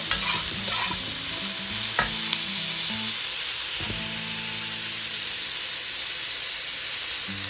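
Vegetables for fried rice fry loudly in a pan, a strong hissing sizzle with steam throughout and a few clattering stirs early on.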